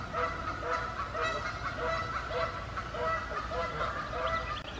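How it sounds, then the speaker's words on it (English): Geese honk repeatedly in a rhythmic series of loud, nasal calls, fairly close, with one bird after another joining in over a forest lake setting. "Oh, here comes another goose."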